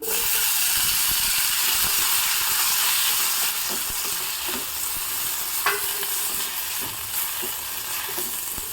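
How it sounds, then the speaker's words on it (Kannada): Tomatoes tossed into a hot tempering in a village-style pan, giving a steady loud sizzle and hiss with scraping stir strokes throughout, easing slightly after a few seconds, no voices. "ಒಗ್ಗರಣೆ ಹಾಕ್ತಾ ಇದ್ದಾಗೆ ಇದಕ್ಕೆ ಎರಡು ಮೀಡಿಯಂ ಸೈಜಿನ ಟೊಮೊಟೊವನ್ನು ಹೆಚ್ಚಿ ಹಾಕ್ತಾ ಇದ್ದೀನಿ"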